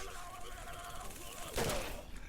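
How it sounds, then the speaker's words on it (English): A shotgun blast in the horror video game Condemned, one loud burst near the end of the clip rising out of a dense, murky game ambience. "He was shooting with a damn shotgun."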